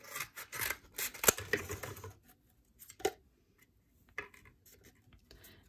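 Scissors snip a little off the end of a cardboard toilet paper tube for a craft, a few quick scraping cuts up close, then scattered faint clicks and rustles with quiet gaps between them.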